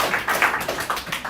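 Applause from an audience, a steady patter of many hands clapping throughout, fairly close and moderately loud, with no speech.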